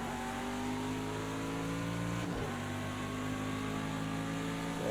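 A Chevrolet Grand Prix GTD race car engine in Project Cars holds a steady, loud droning whine through a lap at Circuit of the Americas, with a brief dip in pitch midway as it shifts, no talk.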